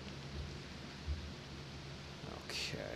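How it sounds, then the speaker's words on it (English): Steady rain hisses throughout a scene in the horror video game Ao Oni, with a low thunder rumble near the start and a brighter crack late in the clip. "It's raining."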